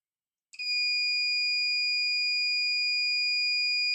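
A multimeter's continuity beep sounds steadily while probing a power resistor on a shorted Asus laptop, a loud, unbroken electronic tone that starts suddenly and holds without pause or any talk.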